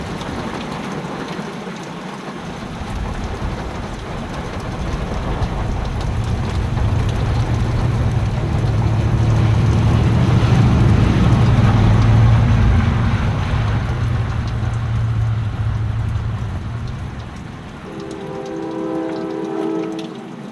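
Steady rain pours during a storm, a dense hiss drumming on surfaces with a low rumble swelling through the middle, close and continuous for twenty seconds with no one talking.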